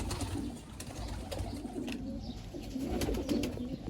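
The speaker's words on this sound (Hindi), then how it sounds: "ये कबूतरों के बच्चे।" Pigeons of an original breed coo steadily in a low, throaty murmur on a rooftop loft, several birds overlapping close by with no talk.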